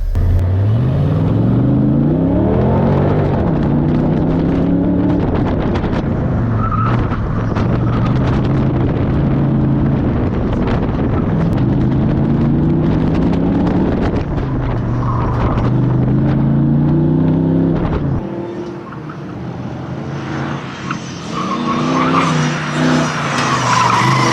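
Car fitted with cantilever coilovers lapping a race track on tires set cold to 35 psi rear and 38 front, engine note rising and falling through gears with squealing, skidding tires, loud and close with wind buffeting throughout.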